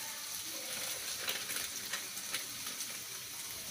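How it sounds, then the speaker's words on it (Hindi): Spices such as turmeric, coriander and garam masala sizzle in a pan for aloo gobhi, a soft continuous frying hiss with light crackle throughout and no voices. "देखिए पक रहा है ना हमारा मसाला"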